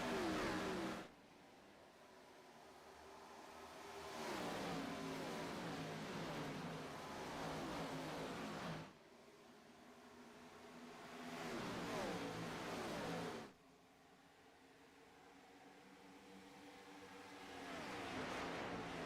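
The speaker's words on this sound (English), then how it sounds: "You hear the wheel spin." Race car engine in a racing video game, revving hard in three repeated surges with wheel spin, each rising burst of engine noise followed by a drop to a quieter idle.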